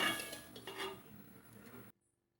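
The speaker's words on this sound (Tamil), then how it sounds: "எல்லாத்தையும் ஒன்றா போட்டு காரத்துக்கெல்லாம் எப்படி சேர்த்து கலக்கிறேன்னு பார்க்கலாங்க" Fried Tamil mixture snack being tossed with spices in a bowl, a dry rustling clatter of crisp pieces against the bowl that runs steadily for about two seconds and then stops abruptly into silence.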